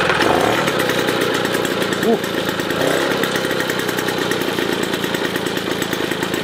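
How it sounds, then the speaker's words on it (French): A 1988 3800 engine is started on a test bench and runs with a loud, rough, rapidly pulsing drone. A voice briefly exclaims over it. "essayer donc de la démarrer"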